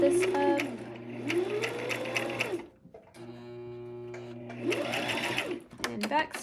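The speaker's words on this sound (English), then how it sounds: "so I still want to just stitch a little bit more just to keep it even" A sewing machine stitches a fabric bow in two loud, close bursts of whirring needle runs separated by a short pause, with a person talking throughout.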